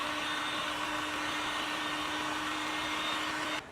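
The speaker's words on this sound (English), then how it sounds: "so this heat gun works just as well, if not a little faster." A heat gun shrinks heat shrink tubing over a wire crimp, blowing a steady, loud whooshing hum with a fixed whine before it switches off at the end.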